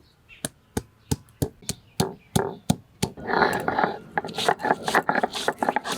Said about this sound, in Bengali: আদাটাই আগে নিলাম থেতো করে নিই